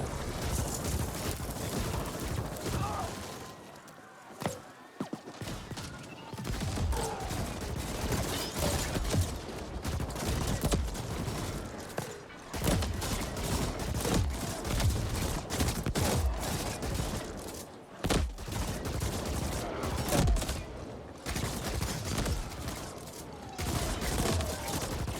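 Rapid, dense gunfire from the cyberpunk action game The Ascent: Cyber Heist, with sustained bursts and volleys that are loud and nearly continuous, broken by a few brief gaps.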